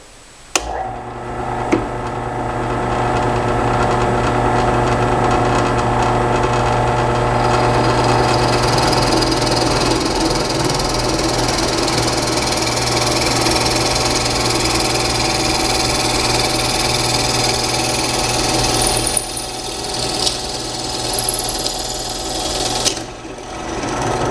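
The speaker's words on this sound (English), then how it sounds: "I'm going to drill a hole right at the end of it." A drill press whines steadily through a long continuous bore near the end of a piece, a constant mechanical drone with a motor hum, starting and stopping with brief clicks.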